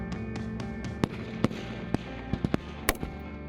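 Sharp reports of patrol rifles being fired at a firearms training range at a military base, scattered irregular cracks of varying loudness over a steady background, somewhat distant, with no talking.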